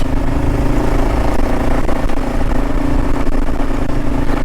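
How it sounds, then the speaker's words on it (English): A motorcycle engine runs steadily and loud on a rough backcountry motorway trail ride along the Lewis and Clark trail in Idaho, a dense continuous drone with a little clatter and no talking. "Bike seems to be running fine now."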